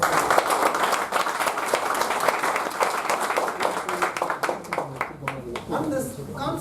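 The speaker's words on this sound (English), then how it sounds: "And give a big round of applause for him." Audience applause for a debate moderator at a speaking club meeting, a dense run of claps lasting several seconds, fairly close and thinning out toward the end.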